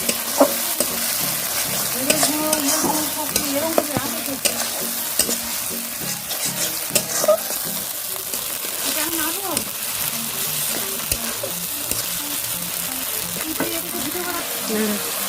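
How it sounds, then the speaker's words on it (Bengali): Ginger paste sautés with mutton for a curry, a close, continuous sizzle and crackle with frequent stirring scrapes, while a voice talks over the cooking. "আদাটাও ভালো করে কষিয়ে নেব"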